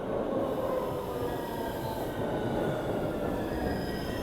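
Subway train wheels squealing on the rails, a steady high metallic screech over the car's constant low rumble, fairly quiet and continuous with no talking.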